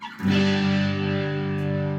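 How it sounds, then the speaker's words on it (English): An electric guitar chord rings out through the Scream 808 overdrive model on a Line 6 Helix, struck once and sustaining with a thick, gritty, slowly fading tone and no talking. "Alright, so now I got a distortion already, an overdrive."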